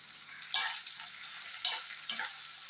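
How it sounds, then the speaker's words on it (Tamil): Sliced ivy gourd (kovakkai) sautéing in a pan, a soft steady sizzle broken by a few sharper bursts as the pieces are tossed and stirred; no talking. "நல்லா இது வதங்கட்டும் நமக்கு."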